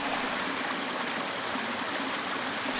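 Small waterfall on the Caerfanell River, a steady, dense rush of falling and splashing water, close and unbroken throughout.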